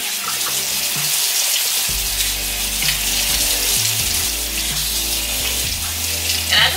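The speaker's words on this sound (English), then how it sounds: "So now I'm simply just going to rinse." Water splashes while a face is rinsed at a bathroom sink during a morning skincare routine. Running tap water and close, irregular splashing continue throughout at moderate loudness.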